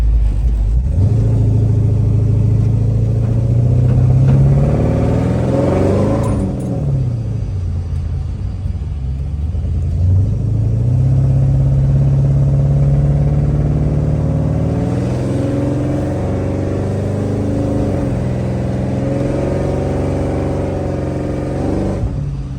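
A car drives on a wet road following a brake booster and master cylinder swap, its engine rumbling steadily up close with two rises in revs as it accelerates, and tyre and road noise running throughout with no voices.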